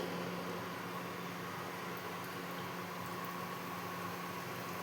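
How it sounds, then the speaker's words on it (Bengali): Aloo kochuri fry in hot white oil with a faint, steady, even sizzle and no talking. "তেলটা গরম হয়ে গেছে, আমি এই কচুরিগুলো এর মধ্যে দিয়ে দিচ্ছি"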